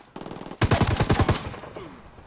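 Close automatic machine gun fire in the video game Ghost Recon Wildlands, a rapid burst of heavy, loud shots that rings out and fades into a decaying tail.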